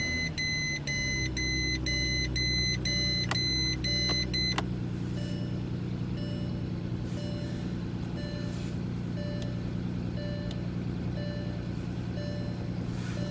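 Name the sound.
instrument cluster chime beeping in Porsche Cayenne 957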